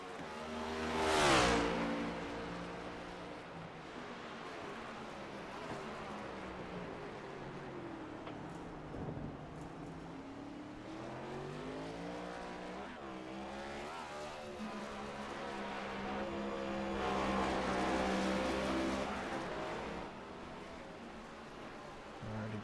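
Race car in a racing video game roaring down the front straightaway, its engine whining through rising and falling revs and gear changes, passing close and loud before fading, then climbing again toward the end.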